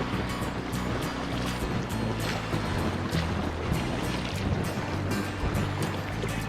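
River water rushes steadily around a raft drifting downstream, a dense, close wash of flowing water with occasional light knocks and splashes, no talking.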